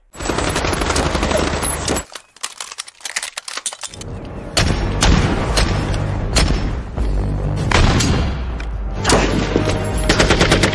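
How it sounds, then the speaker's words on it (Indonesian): Gunfire in a film shootout as a father and others shoot police officers, with dense, loud bursts of rapid automatic fire and single shots, a short lull, then sustained volleys. "Mengetahui adanya bahaya, si ayah langsung saja menembak para polisi"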